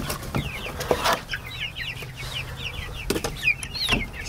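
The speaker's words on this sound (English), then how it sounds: "So there's our chicks." Young chicks in a coop, among them silkies and Easter eggers, give repeated soft clucks and high chirps at close range, with scattered scratching and rustling and no voices.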